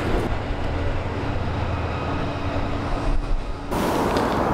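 A train passes near Longroyd Viaduct in Huddersfield as a steady, fairly loud rolling rumble that shifts abruptly just before the end.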